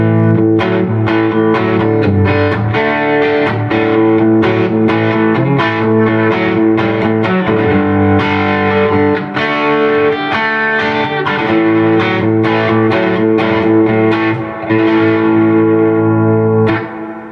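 An overdriven electric guitar plays through a Fender Knotty Pine '65 Princeton Reverb with a Fat Jimmy speaker, sustained distorted chords and notes ringing with light reverb, loud and continuous with no talking.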